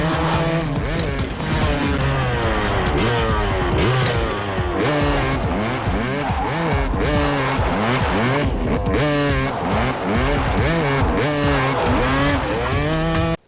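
Motocross motorcycles racing through a national park in an action film, a dense, loud snarl of engines revving and shifting continuously throughout, with no speech.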